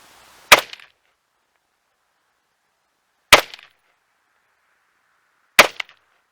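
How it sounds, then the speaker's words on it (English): Three sharp 5.56/.223 rifle shots firing 55gn bullets crack out about three seconds apart, each a loud isolated report with a brief tail, silence between. "I'll just go ahead and shoot a few rounds so that you can see the rifle function"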